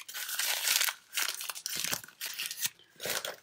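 Paper cover sheet being ripped off a large handmade junk journal, several loud crinkling tears in separate bursts with short pauses between them, close and alone without talk.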